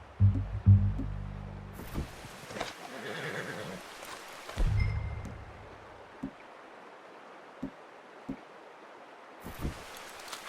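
In the video game Red Dead Redemption 2, a horse whinnies loudly and close, then snorts again a few seconds later, amid scattered hoof clops, light rustling and an outdoor ambience, with no speech.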